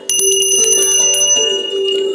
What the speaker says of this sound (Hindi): यदि घंटी आपके पास है तो बाएं हाथ से घंटी बजाएं